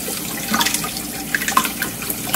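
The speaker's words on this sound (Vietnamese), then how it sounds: "15 phút sau bây giờ đang đem đi xả nước lạnh." Cold tap water runs over cooked purple tapioca pearls, a close, steady splashing with irregular louder bursts as the water hits them.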